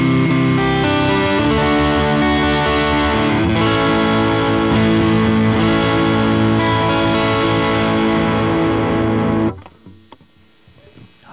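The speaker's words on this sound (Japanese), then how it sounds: "飽和感のあるチューブスクリーマーね、その名のごとく真空管を飽和させたかのようなジューシーな歪みですよね" An electric guitar plays chords through a Zoom G2Four multi-effects unit set to a Tube Screamer overdrive, giving a thick, saturated, sustained distortion that rings for about nine seconds before stopping abruptly, leaving faint handling noise.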